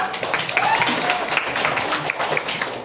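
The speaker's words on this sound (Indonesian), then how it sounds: "tepuk tangan buat kita semua" A ninth-grade class claps hands in a lively, uneven burst, with scattered voices mixing into the clapping near the microphone.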